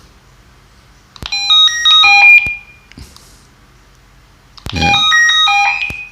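A Retevis walkie-talkie plays its call tune twice: a loud, bright melodic run of stepped electronic beeps, a pause with a faint click, then the same tune again, close and clear.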